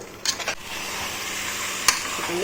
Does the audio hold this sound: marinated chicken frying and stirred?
yes